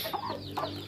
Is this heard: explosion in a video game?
no